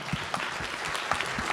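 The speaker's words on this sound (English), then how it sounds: "Let's give them a round of applause" An audience at an emergency preparedness panel gives a brief round of applause, a soft, fairly distant patter of clapping hands with a few sharper individual claps standing out.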